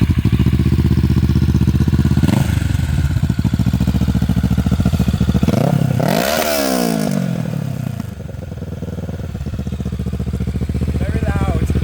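Kawasaki Ninja 650 (2017) motorcycle engine running loud and steady while riding, a continuous close-up drone with a surge in pitch midway and some clattery mechanical texture.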